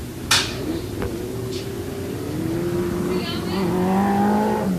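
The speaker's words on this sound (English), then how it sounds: "as Queener, the leader, spins it in turn 4." A race car at a Bakersfield Speedway heat race gives off an engine note that climbs in pitch toward the end, with a short sharp noise near the start and a voice talking over it.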